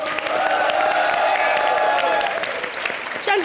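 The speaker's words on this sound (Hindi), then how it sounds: "एक बार कृष्णा, सुदेश और राधा के लिए जोरदार तालियां।" Studio audience applauding loudly on a comedy show set, steady dense clapping with cheering throughout, a voice rising briefly near the end.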